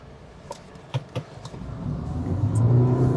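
An old Toyota Yaris engine idles and then revs up, a low rumbling drone growing louder, with a few light clicks early on.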